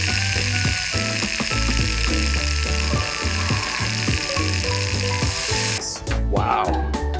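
Chicken shawarma sizzles loudly while it fries in a pan. A dense, continuous crackle runs under rhythmic clattering, and a sharp scrape comes near the end.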